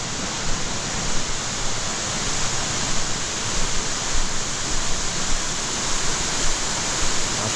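Loud, continuous roar of rushing water from a monsoon waterfall in the Konkan, a dense unbroken wash of noise with no voices.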